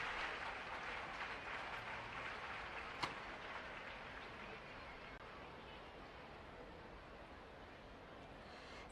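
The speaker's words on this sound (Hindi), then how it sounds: "जोरदार तालियों से आप सहभागी बने।" Applause at an outdoor Independence Day ceremony, a soft, distant wash of many hands clapping that stays fairly even and faint throughout, with a sharp click partway through.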